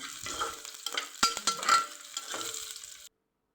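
Green chillies, slit lengthwise, fry in hot ghee for jeera rice. They sizzle steadily while a spoon scrapes and stirs in the pan with a few sharper clinks, and then the sound cuts off abruptly.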